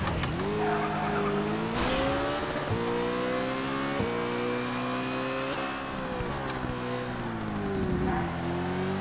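Race cars jostling and overtaking in Toca Race Driver 2 on PC: loud, sustained engine drone rising and falling with gear shifts, close and constant throughout, with occasional tyre scrubbing and no talk.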